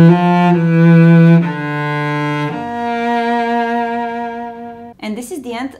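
A cello plays a slow, sustained bowed sequence from a song, several long held notes changing pitch, close and full, followed by a brief burst of speech at the end.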